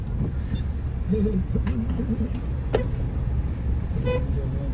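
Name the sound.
four-wheeler car driving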